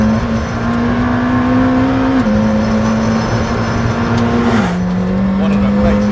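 A McLaren hypercar drives at speed, its engine a loud, steady onboard drone that drops pitch slightly at two points as it shifts up through the gears, with a brief rush of wind near the end.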